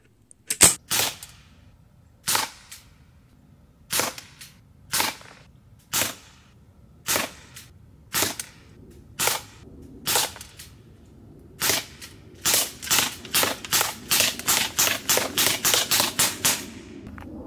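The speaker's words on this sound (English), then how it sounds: "this gun likes the lighter 177 caliber pellets better" A Sig Sauer MCX or MPX air rifle with an HPA conversion fires .177 pellets: a long string of sharp, close shots, evenly spaced at first and then coming faster in a rapid burst toward the end, with no talking.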